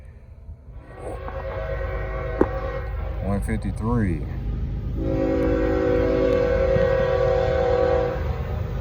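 A Norfolk Southern train rumbles past on the Charlotte District, a loud multi-tone horn blowing in long blasts over the steady roar of wheels and cars, with a brief spoken remark in between.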